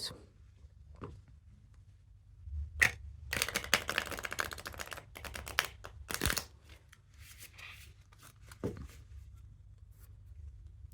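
A Rider-Waite tarot deck is shuffled up close, bursts of riffling and rapid card flutter separated by quieter pauses, with a few soft taps.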